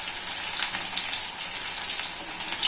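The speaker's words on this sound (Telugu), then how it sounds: "ఇట్లా రోస్ట్ అయినట్టు రావాలండి వంకాయ, బాగుంటుంది." Eggplant pieces roast in oil in a pan for vangibath, giving a loud, steady, close sizzle with faint crackles throughout.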